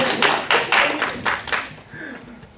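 A small audience claps briefly after a presentation, a handful of distinct close claps that quickly thin out and fade within a few seconds.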